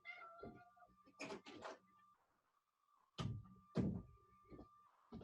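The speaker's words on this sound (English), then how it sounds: "I'm gonna let my cat outside because it's complaining." A pet cat meows insistently indoors to be let outside, two drawn-out meows near the start and two more after a pause, close and clear over a faint steady hum, with a soft thunk like a door.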